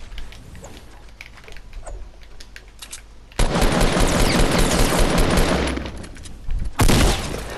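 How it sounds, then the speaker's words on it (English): Gunfire in the battle royale game Fortnite: a sudden loud, dense burst of continuous shots starts partway through, holds for several seconds, dips briefly, then flares again, after quieter ambient game sound. "Right, I am getting shot, which I knew there was somebody near me."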